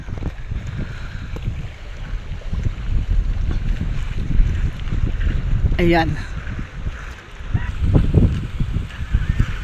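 Strong amihan monsoon wind gusts across open water near boats, a steady broadband roar and buffeting on the microphone, swelling and easing, with a sharp clatter partway through and a person speaking briefly over it.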